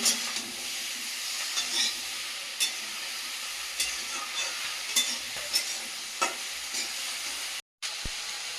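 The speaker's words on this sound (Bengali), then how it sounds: "কাঁচা লঙ্কা দিয়ে দেবো কষিয়ে নেব" Winter vegetables and green chili sautéing in a pan, a steady hissing sizzle with occasional faint scrapes of stirring, moderately close, briefly cutting out near the end, no speech.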